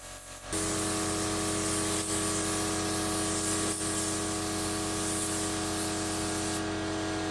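A spray gun lays a wet, even clear coat onto a car in one steady, loud, unbroken hiss that runs almost the whole time without a break.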